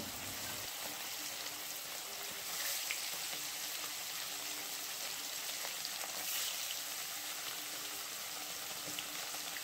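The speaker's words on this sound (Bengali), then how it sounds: "এক এক করে লবণ হলুদ মাখিয়ে রাখা মাছগুলো তেলের মধ্যে দিয়ে দেব" Rohu fish pieces rubbed with salt and turmeric frying in hot oil, giving a steady, even sizzle and crackle that runs unbroken and fairly quiet for the whole stretch, with no voices over it.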